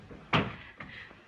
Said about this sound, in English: I could have sworn I heard that door close.